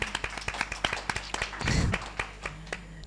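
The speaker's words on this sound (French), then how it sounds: "je trouve qu'on peut l'applaudir" A round-table audience gives a short round of scattered claps, a few sharp handclaps repeating irregularly over about three seconds with a brief muffled rumble midway.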